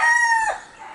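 A rooster crows once, a clear, loud sustained call with a falling end, alone and fairly close.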